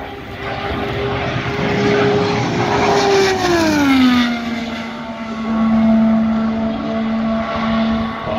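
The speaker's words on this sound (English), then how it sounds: "The Chevy powered machine for Will Power over in turn number three." Will Power's Chevy-powered IndyCar at speed through turn three at the Indianapolis 500, a loud high engine note sweeping past and dropping in pitch as it moves away, heard from a distance.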